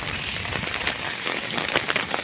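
Heavy monsoon rain pours in Miyapur, Hyderabad, a dense, close, continuous hiss of drops striking surfaces, loud and unbroken throughout with no voices.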